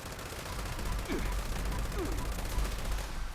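Rapid bursts of light machine gun fire aimed at a Scorchbeast in Fallout 76, sustained and loud with steady rhythmic shots across the clip.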